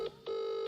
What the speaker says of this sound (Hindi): पहले एक माँ बाप को फोन लगा के पूछ लिया जाए